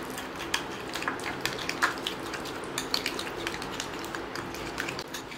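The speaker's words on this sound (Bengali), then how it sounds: "এবার লাস্ট দিলাম টমেটো পিউরিটা, এটাকে ভালো করে মিশিয়ে নেব।" A face pack of sour yogurt, milk and tomato puree is stirred in a bowl, with quiet, repeated spoon clicks and soft scraping against a faint background hiss.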